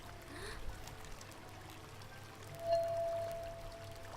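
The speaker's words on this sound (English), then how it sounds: "I'm gonna fill it with water." Water pours into a bucket in the Whispering Willows video game, a soft trickling stream running steadily under quiet ambient background sound.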